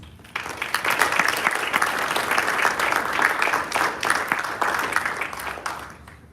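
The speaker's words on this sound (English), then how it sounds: "Please give him a warm round of applause." Applause from guests at a Korean War 75th anniversary ceremony and forum in Washington DC, welcoming a speaker: crisp, close clapping from a mid-sized crowd that starts abruptly, holds steady with a few surges, then tapers off.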